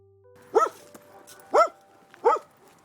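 A cartoon dog in a children's farm-animal colors lesson gives three evenly spaced, clear woofs against an otherwise quiet background.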